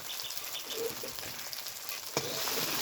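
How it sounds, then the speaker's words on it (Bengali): A spice masala for an egg and raw potato curry is fried in a pan, giving a close, steady crackling sizzle with soft stirring scrapes and one sharp clack near the end. "বেশ কিছুটা সময় নিয়ে মশলাটা কষিয়ে নেব।"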